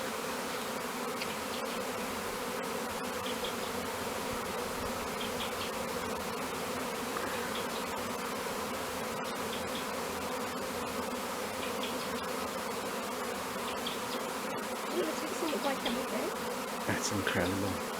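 Bees buzzing steadily around bait outdoors, a continuous close swarm drone with individual insects passing near, slightly louder toward the end.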